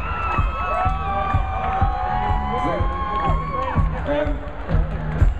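A concert crowd at a show screaming and cheering, a dense wash of whoops and shouts that keeps going steadily, with some talking mixed into the noise.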